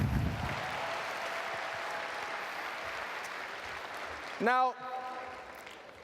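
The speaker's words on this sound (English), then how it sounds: "So give yourselves a big round of applause for being here this weekend." An audience at a Phase 1 training weekend in Rotterdam applauds in a steady wash of clapping that fills most of the moment and then thins. Near the end, a voice briefly speaks over the fading applause.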